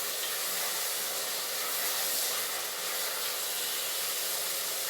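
Shallots frying in a pan for a Kerala fish curry give a steady, even sizzle, like a broad hiss, continuous and close with no talk.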